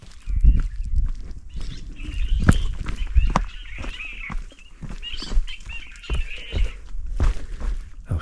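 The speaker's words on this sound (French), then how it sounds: "il s'agit du Merle Pays qui vient de chanter pour nous sur cette vidéo" A Réunion blackbird (merle pays) sings on a mountain trail toward Piton des Neiges, giving short clear phrases at a moderate distance, spaced by pauses, with footsteps and light thumps nearby.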